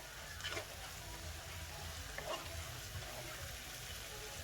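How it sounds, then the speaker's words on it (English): Food fries in a pan of African pinto beans with a soft, steady sizzle, a couple of brief stirring scrapes rising faintly above the low background. "I'm gonna let that fry for a little bit"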